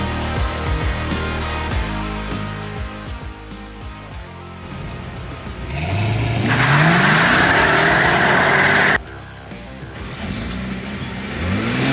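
A Mercedes-Benz SL R107 roars through a drag race, engine revving hard and rising through the gears over a steady loud roar, with tire noise and a brief cut before the drone resumes.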